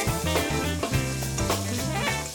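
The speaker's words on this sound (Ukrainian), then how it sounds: "І тепер додаємо часник. І обсмажуємо його дуже швидко." Garlic fries fast in a pan on an electric stove turned to maximum, giving a loud, dense continuous sizzle with stirring scrapes close up and no voices.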